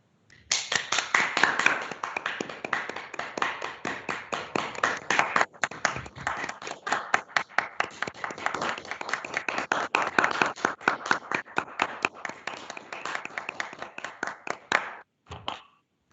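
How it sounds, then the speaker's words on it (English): Group clapping in tribute to Captain Sir Tom Moore during a virtual community event, brisk rhythmic hand claps from a few close participants, sustained for about fifteen seconds before stopping abruptly. "let's all take a break, please, and a hearty clap"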